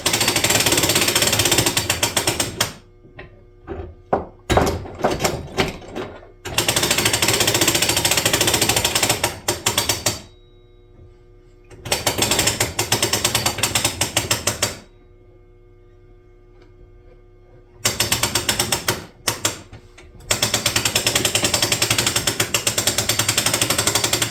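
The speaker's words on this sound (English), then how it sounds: "I can go over to my winch. And I can simply start cranking it down." Hand winch cranking down a bow on a DIY draw board, loud rapid ratcheting clicks in repeated bursts separated by short quiet pauses, close up.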